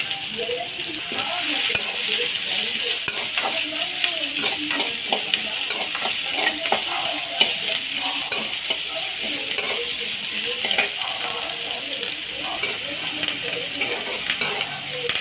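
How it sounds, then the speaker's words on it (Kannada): Onions, mustard seeds and curry leaves fry in a spoonful of hot oil, giving a steady close sizzle and crackle with occasional stirring scrapes throughout, no talking. "ಸಾಸಿವೆ, ಈರುಳ್ಳಿ ಇಟ್ಟು ಕರಿಬೇವು ಹಾಕಿದ್ದೀನಿ."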